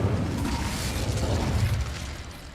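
Incendio fire spell cast in the video game Hogwarts Legacy, a sustained roaring whoosh of flames with crackling bursts, loud and continuous before tapering off slightly at the end.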